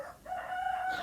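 A rooster crows on a local poultry farm, a single rising and held cock-a-doodle call heard fairly clearly over a soft farmyard background.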